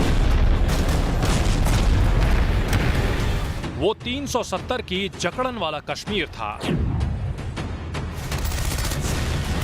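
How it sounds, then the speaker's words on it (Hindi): Dense bursts of gunfire and booming bomb blasts in the Kashmir valley crackle at the start and return near the end, with someone speaking in between. "गोलियों की तड़तड़ाहट और बमों की गूंज से दहलती रहती थी हिंदुस्तान की जन्नत"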